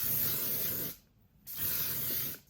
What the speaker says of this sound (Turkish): makyaj üstüne sıkılan 50 SPF'li güneş koruyucusunu almıştım bir sprey formunda